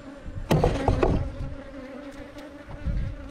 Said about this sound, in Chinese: 大家看一下我这个花粉浆啊， 蜜蜂在吃啊。